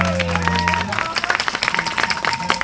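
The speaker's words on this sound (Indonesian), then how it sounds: "Tepuk tangan dulu dong ya." An audience at a village Bersih Desa (Sedekah Bumi) ceremony breaks into steady, dense clapping that fills the space, close and lively, continuing for a few seconds.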